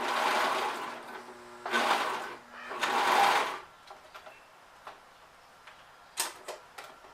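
A cover stitch machine sewing knit fabric for a dress runs in three short whirring bursts, close and fairly loud, then falls to scattered clicks and small handling taps.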